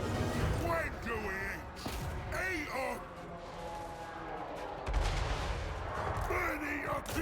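Ranged units volley in a Total War Warhammer 3 battle between Ogre Kingdoms and Lizardmen, with scattered sharp shots and crashes under a dense battle din while someone talks throughout.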